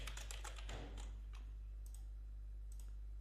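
Short burst of quick computer keyboard typing over a steady low electrical hum, then a few isolated keystrokes before the clicks fade out.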